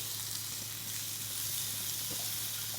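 Shrimp laid on a hot grill give a steady, even sizzle that holds evenly throughout, close and unbroken, with a low hum beneath and no talking.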